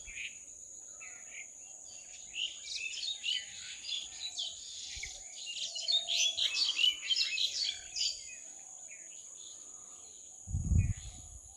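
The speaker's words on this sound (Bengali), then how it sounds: "খালি কিচির মিচির কিচির মিচির, বিভিন্ন পাখির বিভিন্ন আওয়াজ।" Many birds of different kinds chirp and tweet among trees on a hot morning, a busy overlapping chorus over a steady insect drone, fairly faint, with a single dull thump near the end.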